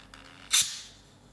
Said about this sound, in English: I'm just gonna gently and carefully open that.